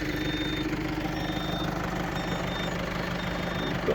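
A Claas Arion 420 tractor with front weights and no loader drones steadily while pulling a Rabewerk furrow plough through stubble ground, a loud, constant low engine rumble with no pauses.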